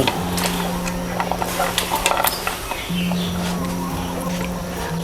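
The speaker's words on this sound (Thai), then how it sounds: "ให้เราใส่หน่อไม้ลงไปเลย" Bamboo shoots stirred into a simmering Thai jungle curry, with scraping and clinking utensil sounds over a bubbling background and a steady low hum running underneath.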